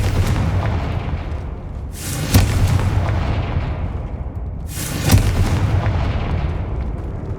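Two fiery Confringo spell blasts in the video game Hogwarts Legacy, each a sharp, loud booming burst that fades into a rumbling tail, spaced a few seconds apart over a low, steady background.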